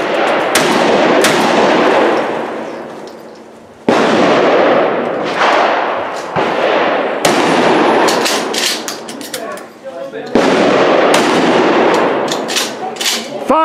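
Repeated loud 12-gauge tactical shotgun blasts on a firing range drill, fired in pairs and spaced bursts of two to three shots, each sharp report followed by a long echoing decay, with faint commands between volleys.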